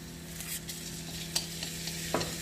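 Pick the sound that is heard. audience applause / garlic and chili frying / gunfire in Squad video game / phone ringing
garlic and chili frying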